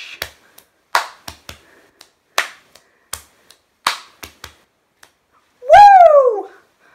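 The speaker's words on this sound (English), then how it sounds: "Boom, snap, clap, boom, boom, snap, clap, snap, boom, snap, clap" Body percussion in a steady rhythm: low thumps on the chest alternating with sharp finger snaps and hand claps, ending with a short vocal whoop.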